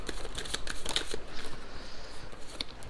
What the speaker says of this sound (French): Alors je vais plutôt prendre ce jeu de cartes.